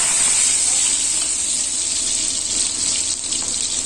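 Chopped garlic sizzling in hot mustard oil for a Chhattisgarh-style radish greens dish, a steady, fairly loud hissing fry that runs unbroken and alone.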